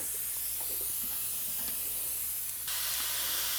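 An airbrush sprays acrylic paint onto a custom helmet, giving a steady close hiss throughout that shifts brighter near the end, with no talking.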